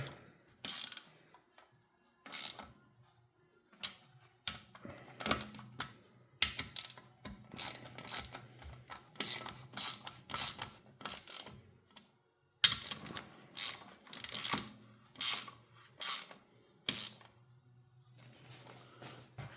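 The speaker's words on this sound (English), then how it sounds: "proceed to tighten the bolt. I think it's 4 Newton when it will click" A torque wrench is tightening a bolt on a La Pavoni espresso machine during a heating element and pressurestat repair, with repeated quiet ratcheting clicks in short bursts and a faint hum underneath.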